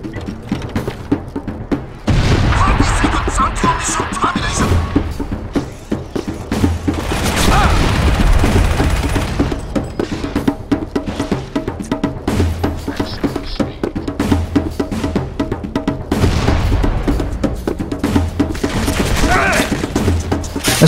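Gunfire in Crysis 1 multiplayer, heavy rapid bursts and booming impacts pounding loud and near across the stretch, with some thuds and brief quieter gaps between volleys.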